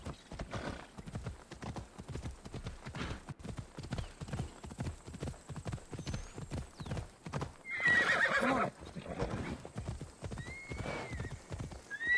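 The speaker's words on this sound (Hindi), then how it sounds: "घोड़ा आओ भाई. Ride Phobos." Horse galloping with rapid rhythmic hoofbeats throughout, then a loud neigh near the end, in the video game Assassin's Creed Odyssey; faint background sounds under the steady clip-clop.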